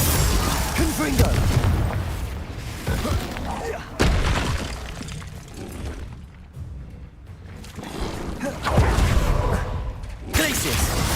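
Explosive Confringo spell blasts in Hogwarts Legacy, several loud booming bursts spaced a few seconds apart amid continuous combat effects and spell impacts.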